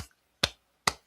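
Three sharp hand claps spaced evenly about half a second apart, each a crisp broadband burst with quick decay, sounding close and alone with silence between them, clapping out word syllables.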